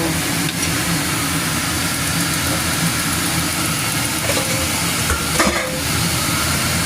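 Sizzling sauté of ingredients in a pan for soup, a steady broadband frying hiss running throughout with occasional faint clinks of stirring, moderately loud and close, no voices.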